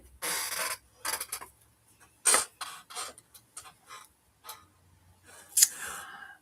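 Scissors snip and trim in a run of short, crisp cuts, some quick pairs and some single, close and fairly loud with quiet gaps between them.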